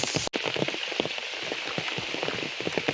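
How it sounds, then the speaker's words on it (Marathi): Steady monsoon rain in the Konkan falls on nearby surfaces, a dense, continuous patter with scattered louder drips, heard alone after a brief cut at the start. "21 तारीखपासून जो पाऊस पडता तो अजूनपर्यंत चालूच"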